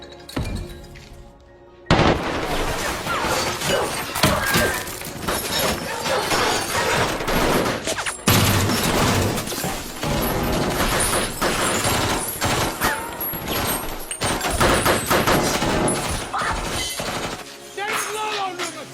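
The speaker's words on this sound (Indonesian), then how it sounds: "Kaki Lolo tertembak." Dense, sustained gunfire from a film attack scene, with rapid overlapping shots and impacts that stay loud and close for most of the stretch after a sudden burst near the start.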